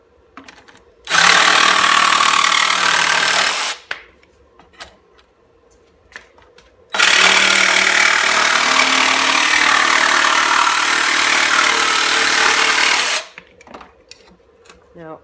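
Porter Cable cordless jigsaw cutting through wood in two loud bursts, a roughly three-second cut followed by a longer six-second cut, each with a buzzing reciprocating rasp, separated by quiet pauses with small clicks.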